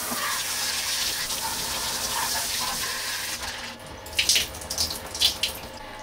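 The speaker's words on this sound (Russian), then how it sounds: "я могу включить кран и прополоскать его" A tap runs steadily to rinse out the dirty tank of a window vacuum cleaner, a close hissing stream that breaks into splashy, uneven gushes as the water hits the container.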